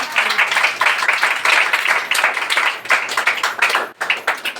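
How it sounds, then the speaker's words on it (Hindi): A church congregation at a Hindi worship service claps loudly for the Lord, producing close, vigorous clapping in surging waves with a brief pause near the end before resuming. "जोरदार प्रभु के लिए ताली बजाइए"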